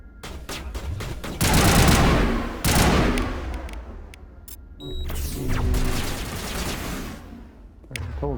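Sniper and gunfire exchanges in the video game Mass Effect Legendary Edition: repeated loud sharp shots and bursts, dense rattling firefights with brief pauses, close and overlapping.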